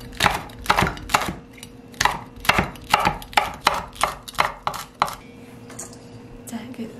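Mugwort being finely chopped with a knife on a board for savory pancake batter, a quick run of crisp, close blade strikes in an uneven rhythm, each thunk sharp and distinct, with no talking.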